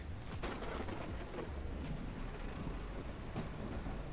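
Steady rain hisses in the Ranch Simulator video game, with low rolling thunder rumbling beneath it throughout.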